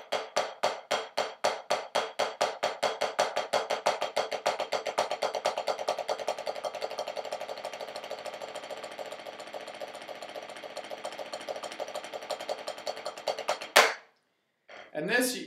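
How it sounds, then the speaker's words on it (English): Snare drum double stroke roll rudiment played continuously with right-right-left-left sticking, a rapid, even stream of strokes that speeds up and then stops abruptly, followed by a couple of separate hits. "the next rudiment we're going to talk about is the double stroke roll"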